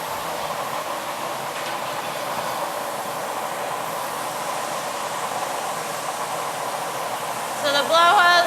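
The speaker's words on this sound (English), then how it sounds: "the blow hose allows him to put air into the end of his blowpipe" A glassblowing blow hose pushes air into the end of a blowpipe, a steady loud hiss of rushing air throughout, with a brief rise of clattering tones near the end.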